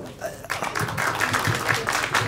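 An audience claps at a song release program, a burst of applause rising after a brief quieter moment and continuing at moderate loudness, with a voice briefly over the start.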